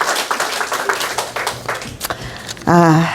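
Congregation at a revival meeting in a prayer-mountain retreat claps together, loud and scattered at first, fading toward the end before a voice rises and holds a sung or drawn-out note over the last moments.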